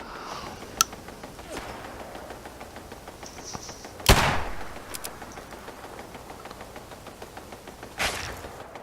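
Revolver gunshots in an Xbox video game: a few sharp cracks spaced seconds apart, one loud shot with a ringing tail, the others lighter, set against a quiet game soundscape.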